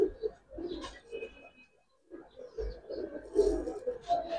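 Giribaz pigeons of Palla-line coloring coo repeatedly nearby in low, throaty bursts, pausing briefly midway before a cluster of overlapping coos resumes.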